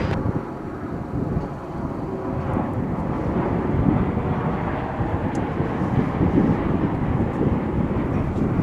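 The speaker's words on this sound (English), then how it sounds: "This again is the American Airlines flight from Paris coming in." An American Airlines jet inbound from Paris on final approach into DFW gives a steady, broad engine rumble, moderately loud and distant, with some wind noise and no talking.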